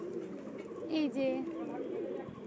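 Pigeons coo nearby in low, throaty rolling phrases that swell briefly around the middle, while a voice murmurs faintly underneath.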